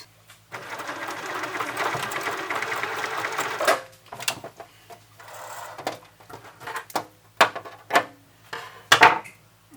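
A sewing machine stitching the fabric ear of a toy pig runs in a steady close whirr for a few seconds, then a series of short stop-start bursts and clicks as the work is adjusted.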